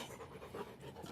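A dog pants quickly and steadily close by, a soft, rapid rhythm of breathy huffs with no other sounds over it.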